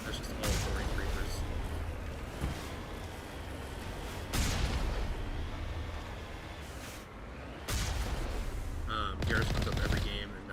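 Heavy cannon gunfire from combat in the video game Mass Effect Legendary Edition, loud repeated bursts and booming blasts in waves across the clip, with a voice talking over the battle.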